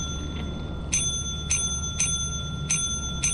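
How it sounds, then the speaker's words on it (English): Bell in the video game Lethal Company rung over and over, five bright metallic dings at a quick, slightly uneven pace over a steady low background hum. "just spam the bell"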